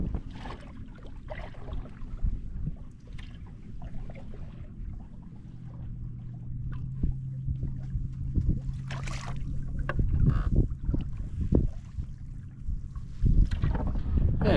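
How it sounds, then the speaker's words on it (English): Wind buffeting the microphone in gusty bursts on open water while fishing for redfish from a boat on a winter afternoon, with low rumbling and water sounds and some muffled talking. "the wind's picking up"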